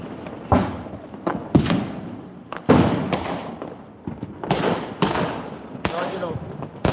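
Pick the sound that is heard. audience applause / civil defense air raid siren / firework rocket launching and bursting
firework rocket launching and bursting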